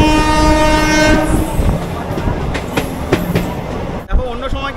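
The Paharia Express, a weekly special from Howrah toward Digha, rolls along loudly with a sustained horn blast for the first second, then steady rumble and clickety-clack of wheels close by.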